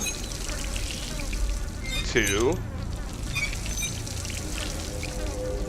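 Water pours from a turned faucet in the game Dishonored, a brief splashing gush standing out over steady background ambience while a man counts aloud.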